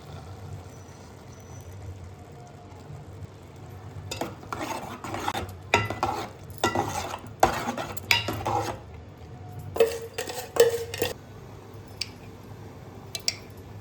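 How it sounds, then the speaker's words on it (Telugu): Jaggery syrup poured into cooked rice for sweet paramannam and stirred in: a quiet start, then repeated close scraping and clinking of a spoon against the pot with wet squishing, in uneven bursts. "ముందుగా పాకం చేసుకొని పెట్టుకున్న ఈ బెల్లం లిక్విడ్ని అన్నం పోసుకోవాలి"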